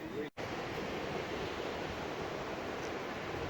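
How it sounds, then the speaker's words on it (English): Ocean surf rolling onto Las Americas beach in Tenerife, a steady broadband wash of breaking waves with a brief dropout near the start, continuous and fairly close, with no talking. "Waves are picking up, so the surfers will be on their way soon"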